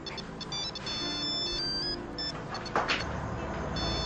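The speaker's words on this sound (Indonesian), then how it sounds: "itu HP Fitri, Tante" A mobile phone ringtone plays as a steady electronic melody of repeating tones, carrying on throughout at moderate loudness over a low background hum.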